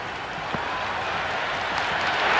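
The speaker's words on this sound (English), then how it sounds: "It's evident and ever so audible that the crowd is at near bursting point at today's play" A steady, loud roar of a stadium crowd cheering in the Cricket 26 video game, building slightly toward the end, with no talk.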